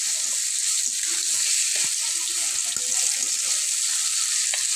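Fish oil sizzles steadily with a sour ingredient frying in it, a dense continuous hiss with small crackles and pops, close and loud, and no voices over it.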